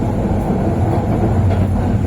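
Passenger train on the Dhaka to Chittagong line heard from inside a carriage near Chittagong, a loud continuous rolling rumble with a faint clattering of wheels on track, no voices.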